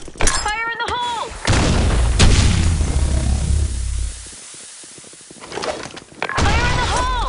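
A grenade blows up in the online shooter Blackshot during a public match, a loud close blast with a long rumbling roar that fades, as game voice lines call out before and after.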